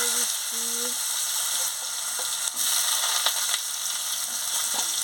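Potatoes fry in a pan for a snake gourd curry with a loud, continuous sizzle close by, broken by a few scraping stirs and a brief dip partway through.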